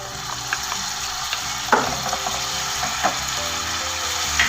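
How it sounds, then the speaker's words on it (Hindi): Sliced onions frying in a pan with ginger-garlic paste and a spoonful of water, a steady close sizzle with soft scraping stirs and a few clicks of a spoon against the pan. "लहसुन और अदरक के पेस्ट को हमने खूब अच्छे से प्याज़ों के साथ भूनना है"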